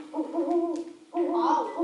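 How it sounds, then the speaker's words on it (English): An owl hooting in a forest setting, two drawn-out tonal calls separated by a brief pause, fairly loud and close with no talking over them. "It's an owl."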